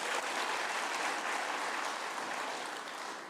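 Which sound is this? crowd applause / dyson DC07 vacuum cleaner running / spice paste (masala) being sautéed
crowd applause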